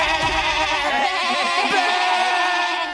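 Several goats bleat over one another in a steady, noisy chorus, close and loud, with overlapping wavering cries throughout.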